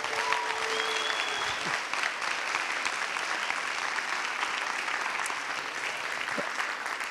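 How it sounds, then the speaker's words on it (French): An audience at a film-series masterclass in a French cinema applauds, a steady, moderately distant wash of clapping that continues evenly throughout with a faint voice briefly audible. "Ronan Crowe, allez, on l'applaudit s'il vous plaît."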